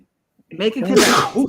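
A single sneeze bursts out in a room between stretches of conversation, loud and close, with a breathy noise at its peak that fades quickly, while speech continues around it.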